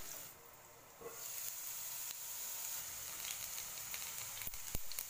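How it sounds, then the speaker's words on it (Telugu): Potatoes frying in a pan until brown: a soft, steady sizzle and hiss with a few brief crackles and pops, fairly quiet and with no talking. "బ్రౌన్ కలర్ వచ్చేంత వరకు వేపుకోవాలి"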